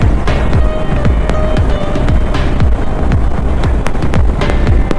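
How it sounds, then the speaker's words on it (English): Strong gusty wind buffets the microphone during a motorcycle ride through cold crosswinds on a coastal road, a loud constant roar with rumbling low-end thumps throughout. "Very windy. Lot of crosswinds."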